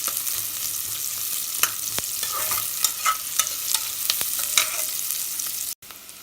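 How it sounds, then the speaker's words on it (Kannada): Onions frying in hot oil in a pan, a steady close sizzle with repeated scrapes and clicks from stirring, then a brief cut near the end. "ಈರುಳ್ಳಿ ಚೆನ್ನಾಗಿ ಫ್ರೈ ಆಗಬೇಕು"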